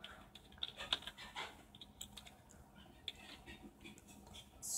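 Computer keyboard typed at a desk while a login captcha is filled in: faint, scattered clicks in an uneven rhythm, quiet and close, with soft panting-like breathing and a little background noise.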